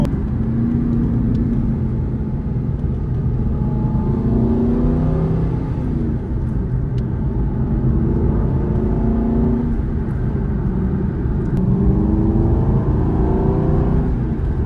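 A 4.7-litre Aston Martin V8 Vantage AMR with a manual gearbox driving, its engine note rising and falling through gears in a steady, close rumble that lasts the whole stretch.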